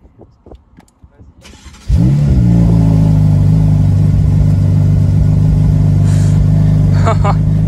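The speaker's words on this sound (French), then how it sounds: "elle a l'échappement en sport là" Ford Focus RS drift car engine bursts into life near 2 s, then settles into a loud, steady, throaty hum from the exhaust in sport mode, with a brief rev rising near the end; quiet handling noises come before it.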